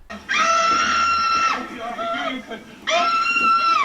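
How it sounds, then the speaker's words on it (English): A female companion in the Doctor Who serial Fury from the Deep lets out amplified screams: two long, loud, high, sustained shrieks with a shakier, quieter vocal passage between them. "the female companion at the time, Victoria, had her screams amplified in order to destroy the monster"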